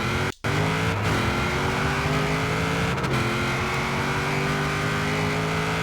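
A Boss 302 car revving hard for a drag launch in Forza Horizon 4, a loud, continuous engine roar with rising pitch sweeps as it accelerates through gears, with no voices.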